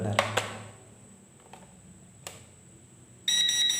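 A few faint short electronic beeps spaced apart during calibration of an SQ800 micro drone on a toothpick frame, then a steady high-pitched chirping tone starts near the end, close by in a quiet room.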